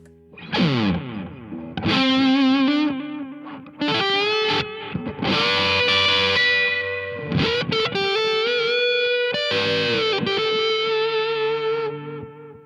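Electric guitar phrases run through an Electro-Harmonix Memory Man analog echo delay pedal, notes repeating and trailing off in layered, slightly distorted repeats, loud and continuous with brief pauses.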